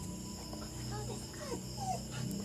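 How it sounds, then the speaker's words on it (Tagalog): A dog whimpers and yips faintly in short high whines under a person talking, with low background noise. "Iniiyak ng aso ko."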